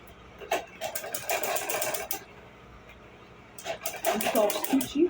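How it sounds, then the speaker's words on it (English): A sewing machine stitches a purse zip in two bursts of rapid mechanical chatter separated by a quieter pause, heard close up. "and then we sew it"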